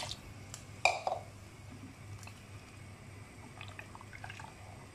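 Water is added to palak methi kadhi in a cooking pot, giving a brief splash and pour followed by faint trickling and soft liquid movement, with no voices.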